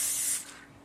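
A short burst of hairspray hisses close by for under half a second, sprayed at the base of a sock bun on medium-length hair, then trails off into quiet.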